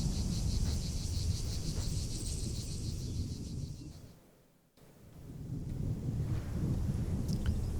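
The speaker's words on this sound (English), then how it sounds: "Looks like a storm is brewing." Thunderstorm brewing in Arma 3, a heavy low rumble of rain and wind that sinks almost to silence partway through, then swells back to a dense roar, with a faint high insect buzz over the top.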